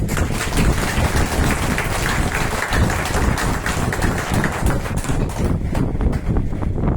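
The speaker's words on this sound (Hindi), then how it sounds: "एक बार जोरदार ताली" An audience claps loudly at an Overnet business meeting in Patna, a dense, continuous burst of applause filling the room from start to finish with no speech over it.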